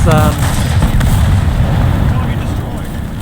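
A StuG III tank cannon fires in a video game, a loud, heavy boom that rolls on as a deep, sustained rumble and slowly fades.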